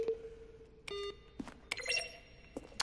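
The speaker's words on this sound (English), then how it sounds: "A selection of sounds used throughout the game when buttons are pressed. Each sound is a mix of keyboard stroke and a synthesized tone." Button presses in The Stanley Parable video game, each a keyboard keystroke mixed with a synthesized tone, come as a series of short separate beeps and clicks that vary in pitch over a steady faint hum.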